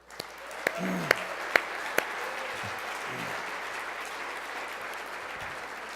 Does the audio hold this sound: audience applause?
yes